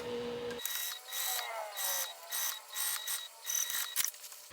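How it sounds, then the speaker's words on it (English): A sewing machine top-stitches two fabric pieces together, its motor whirring in a series of short, close bursts separated by brief pauses, with no voices. "I'm going to sew from tab to tab, top stitching these two pieces together"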